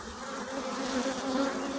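Dense, steady buzzing of many honeybees, including drones, swarming around beehives, a continuous close hum with no voices.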